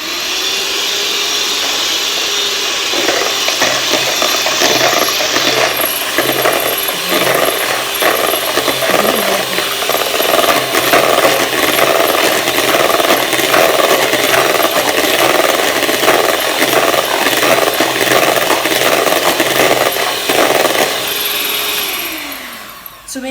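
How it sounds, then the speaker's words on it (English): An electric mixer whirs loudly and steadily through chocolate cake batter, a continuous motor buzz with faint scraping that runs for most of the stretch before cutting off near the end. "now we have this mixer over here. We'll mix up until"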